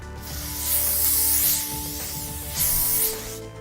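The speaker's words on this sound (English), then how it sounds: "And I'm gonna spray that all over." Two long hissing bursts of glitter hair spray from an aerosol can, close and loud, separated by a short pause.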